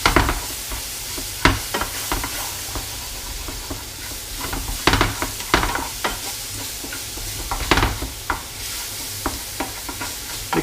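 Noodles frying in a pan with added paste, stirred steadily: a constant sizzle broken by repeated scraping and clattering strokes from the utensil, close and fairly loud, with no talking.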